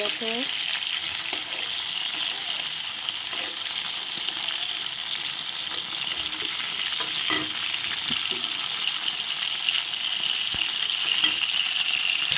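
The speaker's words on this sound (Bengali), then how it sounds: "এখন উল্টে দিলাম সবগুলো মাথাগুলো ভাজা হয়ে গেছে এখন তুলে নিচ্ছি" Wallago catfish (boal) heads sizzle and crackle steadily in hot oil, a continuous close frying hiss with occasional stirring clinks.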